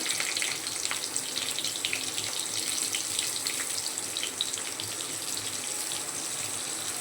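Dense, steady sizzling crackles continuously as pointed gourd and potato fry in hot oil, with no talking throughout.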